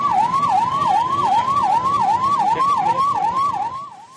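Fire engine siren near a car burning in the middle of a road by the central bus stand in Belagavi, a loud wailing tone rising and falling in rapid regular cycles over traffic noise, fading slightly at the end.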